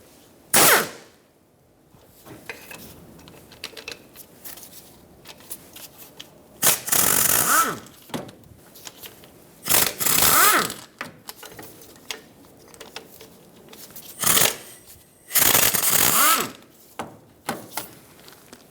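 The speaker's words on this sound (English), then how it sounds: "Use a 12mm socket and whatever tool you have that fits in there." A ratchet with a 12mm socket loosens the harmonic balancer bolts on a 1995-2004 Toyota Tacoma 2.4L four-cylinder, in separated bursts of quick mechanical clicking with quiet gaps between them and no talking.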